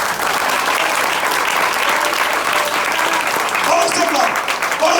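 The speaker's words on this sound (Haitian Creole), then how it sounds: "On applaudit mon Dieu." Steady applause from a church congregation fills the space for the full stretch, loud and continuous, with voices and some speech mixed into the clapping.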